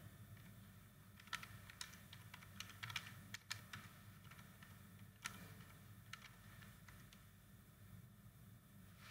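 Keys clatter on a computer keyboard as a command is typed in Kali Linux, irregular bursts of soft clicks over a steady low hum, fairly faint and without talk.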